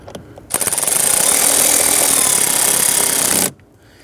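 A cordless power tool drives a screw into the interior of a 2011-2019 Ford Explorer during blower motor resistor replacement, one loud steady whir lasting about three seconds, close and alone, with brief clicks before and after.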